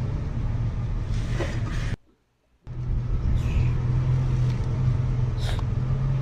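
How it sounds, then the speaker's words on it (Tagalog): A car engine gives off a steady low rumble that cuts out briefly to near silence, then resumes at the same even level. "Makina ng sasakyan to."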